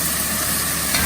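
Finely chopped vegetables and tomato are stirred in a hot pan, giving a steady, close sizzle with soft scraping for about a second, without any voices.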